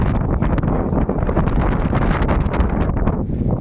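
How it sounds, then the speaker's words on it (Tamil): Strong storm wind roars and buffets the microphone in loud, continuous gusts with rustling, an outdoor storm with rain, and no voices. "என்ன ஒரு அற்புதமான ஒரு காற்று புயல் மழையும் சேர்ந்து நம்மோடு கவிதை பாட வந்திருக்கிறது"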